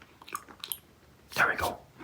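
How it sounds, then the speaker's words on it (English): Mike and Ike sour candy being chewed close up, soft crunchy bites in a few short bursts with one louder crunch near the end, with quiet mouth sounds between. "You can hear the crunch, the kind of crunchiness, but that goes away in a little bit."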